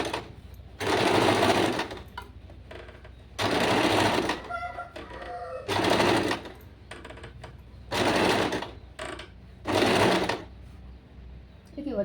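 A sewing machine runs sample stitches, including overlock-style embroidery stitches, in five short whirring bursts separated by pauses, with a person speaking in between.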